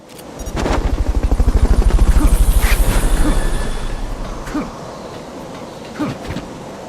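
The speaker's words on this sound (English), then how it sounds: "Fulton recovery helicopter is complete." A Fulton recovery helicopter in the video game Metal Gear Solid: Peace Walker gives a loud, rhythmic rotor thump that builds, holds for a few seconds, then fades under soft game sounds.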